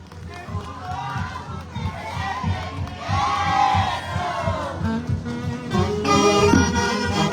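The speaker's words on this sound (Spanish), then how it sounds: "El aplauso del respetable público," A crowd cheers and shouts at a patronal fiesta for Santa Rosa de Lima during a huayno performance by an orchestra. Loud, continuous crowd noise with excited voices and raised shouts swells over about seven seconds.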